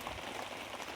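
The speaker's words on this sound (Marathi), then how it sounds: "पाऊस काय कमी व्हायचा नावच घेणार" Steady, dense rain falls outdoors where paper is being tied around trees, a continuous close hiss with no voices.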